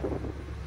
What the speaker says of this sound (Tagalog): Sunod ang hangin guys, ang lamig. Lamig ng hangin.